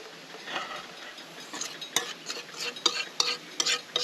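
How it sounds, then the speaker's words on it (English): A spoon stirs noodles and peanut sauce in a camping pot over a burner that has been switched off. Close, irregular scraping strokes and light metallic clinks come in a loose rhythm with no talking. "Give it 1 more stir"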